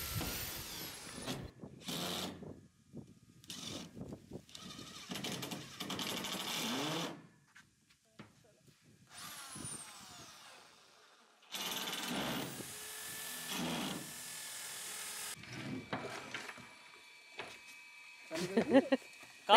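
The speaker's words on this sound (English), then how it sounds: "we can actually pre-drill into it and then use screws to secure it" A power drill whirs pre-drilling into pipe in several bursts of a few seconds each, separated by pauses, close by and fairly loud, ending with rattling handling noise.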